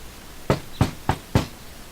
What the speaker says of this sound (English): let's knock on the door